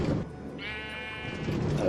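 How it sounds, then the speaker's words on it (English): A Minecraft sheep bleats once in a drawn-out, wavering cry on the PS4 edition, with faint game ambience before and after it. "Mind the sheep."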